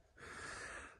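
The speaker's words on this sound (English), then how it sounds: "I'm puffing and panting." A person pants after climbing up to a sandstone cave, one close, breathy exhalation that swells and fades within a second, quiet and heard alone.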